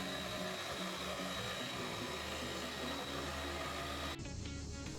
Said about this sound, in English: So I broke out the good old Dremel scroll saw.